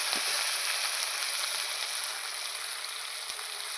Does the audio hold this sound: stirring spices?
yes